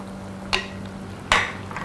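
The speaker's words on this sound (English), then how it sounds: "Mix it well." Two brief scraping clatters of a utensil stirring Sri Lankan carrot curry with coconut milk boiling in a pot, separated by a pause, over a steady low hum.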